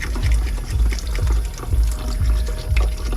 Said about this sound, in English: I pump the water out of the ground.